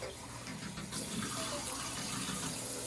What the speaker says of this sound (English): now he's gonna go ahead and rinse the product out